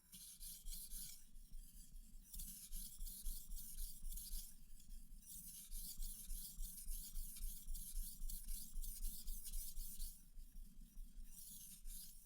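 A knife is drawn across a Suehiro 3000-grit finishing whetstone with a slurry, making rhythmic wet rasping strokes that come close and distinct in a quiet room, with brief pauses between passes.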